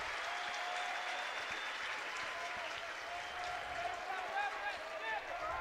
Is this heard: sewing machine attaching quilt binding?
no